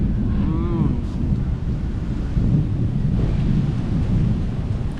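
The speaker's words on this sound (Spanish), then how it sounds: "No sé si lo escuchan, pero está tronando." Deep rumbling thunder rolls on near Kavak caves in Canaima, Venezuela, a loud low continuous growl swelling and fading, with a brief voice early on.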